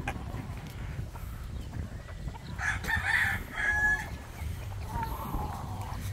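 A rooster crows on a farm where pullets roam the range. Two loud crows rise over steady farmyard background noise, with softer clucking around them.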